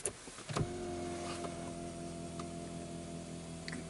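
An electric seat and steering column motor whirring steadily inside a Mercedes S350 4Matic, preceded by a couple of clicks, close and fairly quiet.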